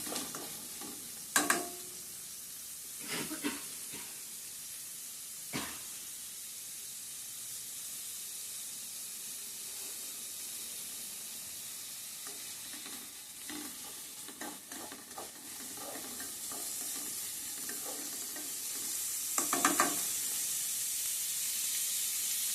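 Lentils and onion frying in a pan for spinach fry, a low continuous sizzle punctuated by occasional spoon scrapes and clinks, the hiss swelling louder toward the end.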